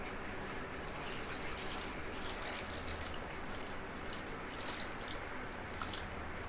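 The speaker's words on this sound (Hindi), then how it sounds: "ऊपर से इसके ठंडा पानी डाल दें।" Cold water is poured over cooked raw mango for a murabba, a steady splashing trickle of liquid heard alone and fairly close.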